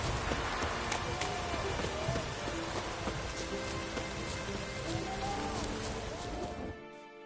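Steady rain falling in a Witcher game scene, a dense continuous hiss of drops that runs throughout and cuts off abruptly near the end.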